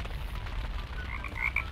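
Summoned toads croak in the RLCraft modpack of Minecraft, a run of short, bright, chirpy croaks building toward the end over a steady low rumbling game ambience, with no voices.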